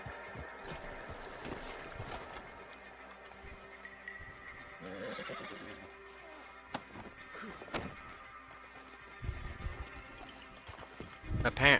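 Horse in Red Dead Redemption 2 plodding along at a slow crawl, with hoof clops and a whinny over busy game ambience and scattered louder bumps toward the end.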